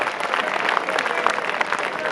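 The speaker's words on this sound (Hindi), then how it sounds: "भाई जोरदार तालियां इस बात पे तो।" An audience at a Hindi comic poetry recital claps in a dense, even burst of applause, moderately loud and close, lasting a couple of seconds.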